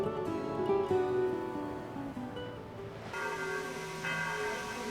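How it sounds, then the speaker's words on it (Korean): Church bells ring across Dubrovnik's old town, a steady layered peal of resonant tones that continues throughout, fairly loud and without speech, with a brighter bell joining toward the end. "한가로운 시간들은 성곽이 종소리에 묻히고"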